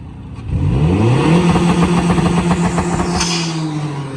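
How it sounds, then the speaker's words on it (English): A Honda H22 engine fitted with a big tube header revving hard, a loud close rasp that climbs steeply in pitch, holds high, then eases slightly, with no talk over it. "Rev it up. Rev it up. Rev it up."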